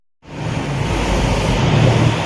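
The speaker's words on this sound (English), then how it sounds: "Too many trucks." Loud, steady roar of heavy truck traffic rumbling nearby in downtown South Lyon, outside a law office, a constant low engine drone that fills the whole stretch without pause.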